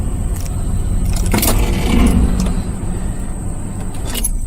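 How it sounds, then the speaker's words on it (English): A 2000 Ford Expedition with a 4.6 engine idles in drive with a steady, close, low rumble that swells slightly in the middle, as though surging, with faint light rattling on top and no talking. "See it surging? You hear those valves out there trying to rattle?"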